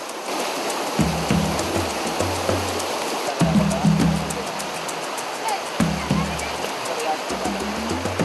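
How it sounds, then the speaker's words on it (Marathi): A river surges hard over rocks where a bend in the stream forms a natural jacuzzi, a loud, continuous roar of rushing water close by, with voices talking over it at intervals. "नॅचरल जकूझी म्हणजे नदीच्या प्रवाहातला एक असा मोड जिथं दगडांच्या रचनेमुळे पाणी अधिकच जोरात वाहतं."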